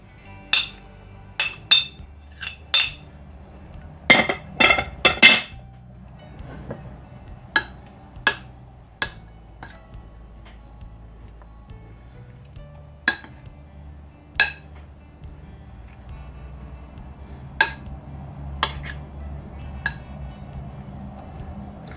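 Vegetables being mixed with mozzarella cheese in a bowl for a vegetable cheese pie, heard as scattered sharp clinks and knocks of a utensil against the bowl, close and irregular, over a low steady background hum.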